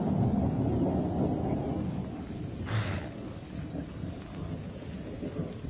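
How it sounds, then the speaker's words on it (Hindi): Summer thunderstorm over the savanna: a low rumble of thunder under a steady wash of rain, with a brief brighter crackle midway, fading a little toward the end. "और साथ में गर्मियों की बारिश"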